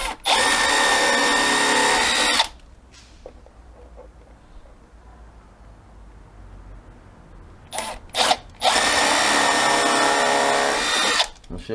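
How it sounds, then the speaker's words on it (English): A power drill driving screws into a decking-board window box, two loud sustained bursts of whirring separated by a quiet pause with a few short revs before the second run. "3 screws very quickly into place"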